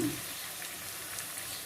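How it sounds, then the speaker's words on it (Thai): Black lingzhi mushrooms fry in oil on low heat, giving a soft, steady sizzle that stays close and even throughout. "ทอดไฟอ่อนนะคะค่อนอ่อนนะคะ"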